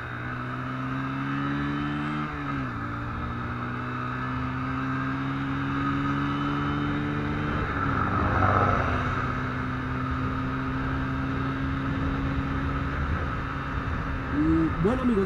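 A Bajaj Pulsar NS125 motorcycle runs on the road, its engine droning steadily with pitch shifts as it accelerates through gears, accompanied by wind noise; the engine stays loud and close throughout.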